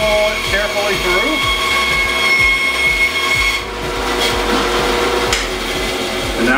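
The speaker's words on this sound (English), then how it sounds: "turn on the bandsaw, go to the second line, and roll it carefully through" A bandsaw hums loudly and steadily while cutting a custom Jeep bump stop, with rough rasping and grinding as the piece is fed through and the cut shifts in intensity.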